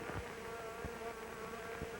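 A monster film sound effect of a buzzing insect swarm: a steady, droning hum that holds level throughout, with a few soft low thumps underneath.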